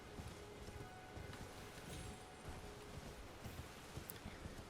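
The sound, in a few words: horse hoofbeats while riding in Elden Ring video game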